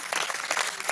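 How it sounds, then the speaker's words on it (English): Audience hand clapping at a crypto developer event in New York, a brief burst of dense, steady applause close by. "Let's do some hand clapping."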